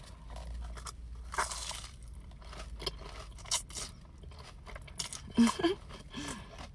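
Crunchy fried mozzarella sticks from Dave's Hot Chicken dipped in Dave's sauce, bitten and chewed close to the mic in several sharp crunches and crackles with short pauses between, over quiet background noise.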